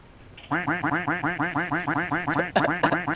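Ducks in the survival game DayZ quack in a fast, regular run of loud nasal calls, close by, ending in a few harsher honks.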